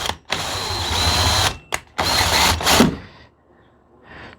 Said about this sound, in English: So then drill this in first, and then I'm going to want to have this at a bit of an angle.